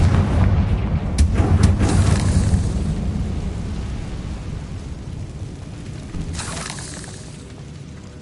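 Explosive blasts from the Confringo fire spell in the Hogwarts Legacy video game, with a burst of booms in the first two seconds and another around six seconds over a steady rumbling game backdrop, no talk.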